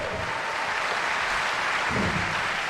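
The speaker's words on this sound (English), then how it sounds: "Round of applause for these people." A large Comic-Con audience claps and cheers in a steady, dense roar that fills the whole stretch without letting up.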